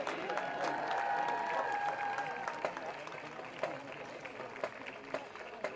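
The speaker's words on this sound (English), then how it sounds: "Give another round of applause for our Albert Gallatin Colonial Marching Band." A crowd at a high school football game applauds the Albert Gallatin Colonial Marching Band, clapping and cheering that thins into scattered claps, with a voice and some whistling tones mixed in early on.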